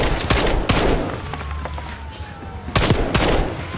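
Call of Duty Black Ops gunfire bursts out loud, with rapid automatic shots at the start and again near the end and a quieter stretch between them.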